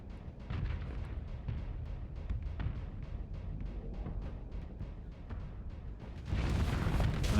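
Rockets burst one after another in the space combat game Starsector: a rapid rhythmic series of booming impacts over a low rumble, swelling into a louder, denser roar near the end.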